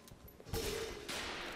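Gunfire from Ape Out, a quick burst of faint, distant shots cracking twice in close succession over a low background hum.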